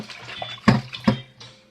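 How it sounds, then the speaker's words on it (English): Chicken is washed in cold water with squeezed lime, giving soft close sloshes and two sharper splashes in quick succession. "You squeeze the lime again and you wash it the same way."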